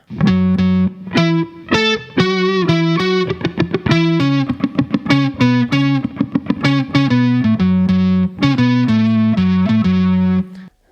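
Electric guitar riff played through an HX Stomp XL multi-effects pedal, thick distortion and effects, chugging and sustained notes played loudly and continuously with brief gaps.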